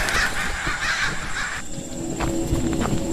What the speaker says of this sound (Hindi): वो सभी चील और कौवे बनकर फिजा में उड़ गए